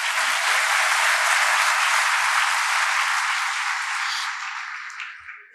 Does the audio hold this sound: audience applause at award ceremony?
yes